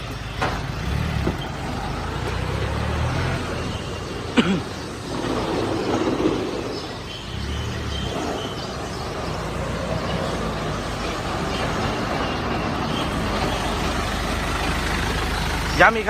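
A Yanmar EF514T tractor engine idles with a steady low diesel rumble throughout, a few clanks and brief bumps over it, with the engine constant and fairly close.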